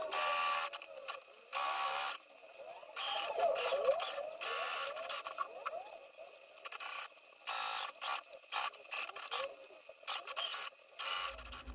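A sewing machine stitches a seam around the edge of a handmade fabric clutch bag and its lining, running in repeated short mechanical bursts separated by brief pauses, close and fairly loud with no talk.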